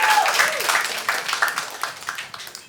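Audience applause at a live stand-up comedy show, a burst of clapping with a few cheers that thins out and tapers into scattered claps.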